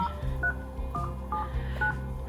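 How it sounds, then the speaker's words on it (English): A car head unit's phone dial pad gives a quick series of short electronic keypad tones, about five beeps in an irregular rhythm, clear and close, with no talking. "I'm just going to press the dial pad"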